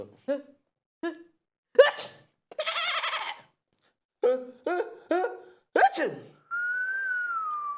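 A voice imitates a sneeze among several short vocal bursts, followed by a long steady whistle-like tone near the end.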